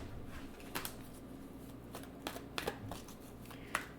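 Wisdom of the Oracle cards are shuffled by hand close up, with soft papery riffles and several crisp slaps of the deck over a quiet background.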